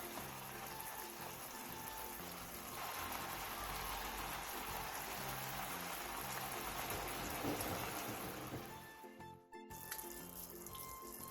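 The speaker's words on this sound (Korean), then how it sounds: "물이 바글바글 끓어오르면 중약불로 줄여 15분 정도 자작하게 졸여주세요" Braised king oyster mushrooms with sauce, green onion and chili bubble in a pan, a steady close fizzing simmer throughout that cuts off briefly near the end.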